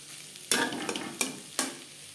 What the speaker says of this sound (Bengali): মিডিয়াম ফ্লেমে দু তিন মিনিট নাড়াচাড়া করে দেবো